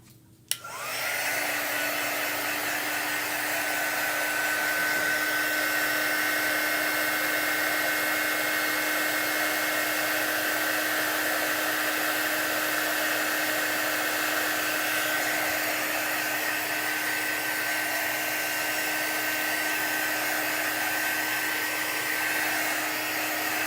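A hair dryer blows on chalk artwork, starting with a click and then holding a loud, steady whirring roar with a constant whine for over twenty seconds, close and uninterrupted.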